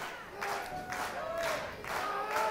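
A packed wrestling arena crowd cheers in surging waves of roaring voices, swelling and easing across a few seconds, loud and diffuse.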